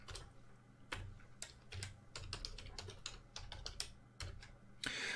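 A password is typed on a computer keyboard in quick, irregular bursts of close, crisp key clicks, fairly quiet and alone.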